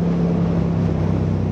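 A 2022 Yamaha YZF-R7 with an Akrapovic exhaust cruises at steady speed on a highway, its engine drone and exhaust hum running continuously under heavy, even wind rush at the rider's helmet.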